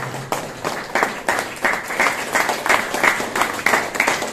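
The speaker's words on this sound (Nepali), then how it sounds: "हामी ताली बजाउँदैछौँ ताली बजाउँदै गर्दैछौँ" Group applause at a pastors' and leaders' retreat in Shillong, with rhythmic, pulsing claps repeating steadily, fairly close and loud, with no talking.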